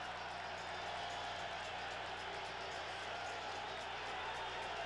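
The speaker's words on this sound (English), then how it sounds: "What an ovation! Listen to this crowd." Arena crowd ovation before the Sugar Ray Leonard vs. Roberto Durán fight in 1980: a dense, continuous roar of cheering and applause, distant and steady throughout, with faint voices mixed in.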